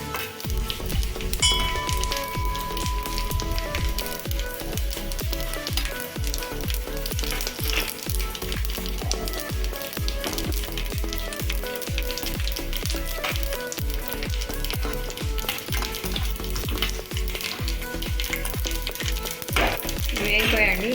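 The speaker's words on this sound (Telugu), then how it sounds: "వెల్లుల్లిపాయలు బ్రౌన్ కలర్ వచ్చాక వేయించుకోవాలి" Garlic cloves fry in hot oil until brown, giving a steady, loud sizzle with crackling pops and occasional stirring scrapes throughout, with no talk.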